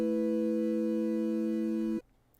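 A tiny electronic keyboard plays a two-handed phrase from the Death's Door soundtrack, steady sustained tones in both registers held for about two seconds, then cut off abruptly into near silence.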